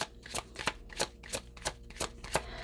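Oracle cards are shuffled by hand in a quiet room, giving about eight crisp, papery riffling bursts in a steady, unhurried rhythm, close up and with no voices.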